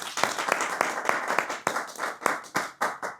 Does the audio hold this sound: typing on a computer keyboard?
no